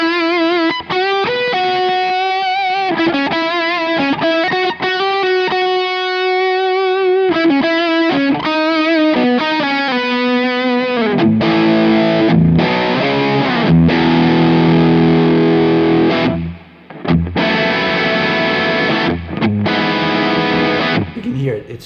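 Electric guitar through a Revv Tilt overdrive pedal: sustained distorted chords and arpeggiated notes ring out loud and continuously, with a grittier, denser stretch midway and a brief dip before playing resumes.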